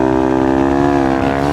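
A motorcycle engine holds a steady, droning note at roughly constant throttle during wheelie practice. It sounds close and loud throughout, with no voices.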